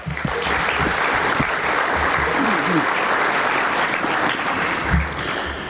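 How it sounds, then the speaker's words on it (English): Sustained applause from a roomful of people at an organisation's thank-you event, a dense continuous wash of clapping from start to finish. "a round of applause to the families as well"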